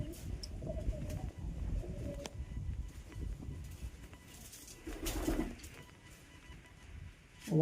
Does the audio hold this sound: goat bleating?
no